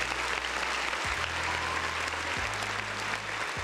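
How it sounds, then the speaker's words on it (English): A dense burst of applause for a birthday plays steadily for a few seconds over a low repeating background hum. "round of applause for my boy Dewan"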